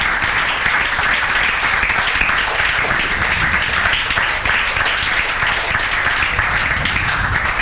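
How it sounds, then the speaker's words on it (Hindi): Classroom applause for a student during a trigonometry lecture; loud, dense clapping from a group continues steadily for several seconds with no speech over it. "थर्ड के लिए जोरदार तालियां।"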